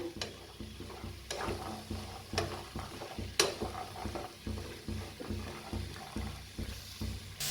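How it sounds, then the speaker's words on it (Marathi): Vegetables being stir-fried in a pan, soft sizzling under rhythmic spatula stirring, with a few sharp metallic knocks against the pan and regular pulsing scrapes at a moderate, fairly quiet level. "छान भाजून घेऊया।"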